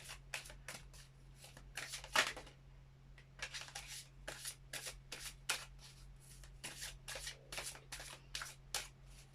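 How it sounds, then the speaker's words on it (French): A deck of oracle energy cards is shuffled in a quiet room, a run of quick riffling bursts in an irregular rhythm, close and fairly soft. "Nous allons prendre les cartes des énergies."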